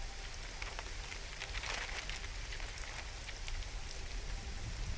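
Rain in the survival video game How to Survive makes a steady, dense hiss of drops striking surfaces. It is an even, unbroken downpour heard alone, with no voices.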